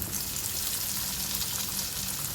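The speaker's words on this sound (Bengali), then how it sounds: "গ্যাসের ফ্লেমটা আমি মিডিয়ামে করে ম্যারিনেট করা মাছের পিসগুলোকে ভেজে নেব" Marinated fish pieces fry in hot oil in a wok over a medium gas flame, giving a steady, even sizzle and crackle that runs throughout without pauses.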